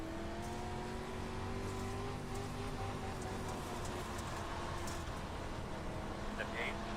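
Race car engines drone steadily on an oval track in a racing game set at Bristol with 87-style cars, harmonic whine held throughout under intermittent talk and faint rain-like hiss.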